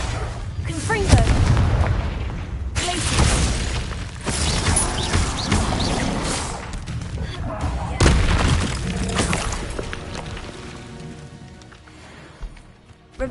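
Confringo spell blasts go off repeatedly in the Hogwarts Legacy video game as a series of loud, booming impacts and crackling bursts over a dense, rumbling background, easing off toward the end.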